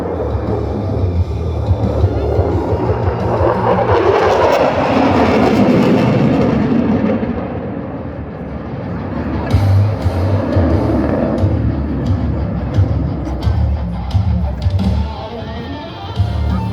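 An F-16 fighter jet at an airshow makes high-G turns, a loud, continuous roaring jet engine that swells and recedes as it passes.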